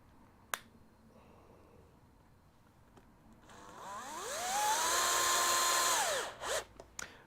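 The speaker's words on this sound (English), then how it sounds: "So let's get these screwed in." A cordless power drill drives screws during workshop prep for fireworks, preceded by a sharp click, then a rising whine that holds steady for a couple of seconds before winding down, close and alone.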